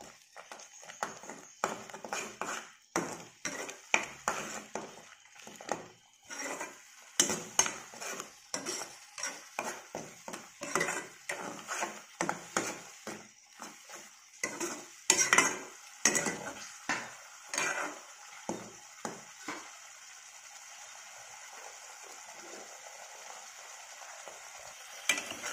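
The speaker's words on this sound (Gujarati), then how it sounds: "હવે એને આપણે મિક્સ કરી લઈશું સારી રીતે." A spoon stirs turmeric, garam masala and coriander powder through a cluster bean curry in a pan, producing quick repeated scraping and clinking strokes, close and fairly quiet, easing off toward the end.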